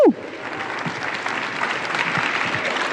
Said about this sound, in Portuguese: Então dá o seu melhor aplauso para o Senhor, vai.